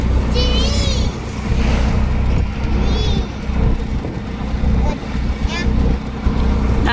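Mom's motorcycle, in for repair, runs with a steady low engine hum close by while children chatter and shout over it.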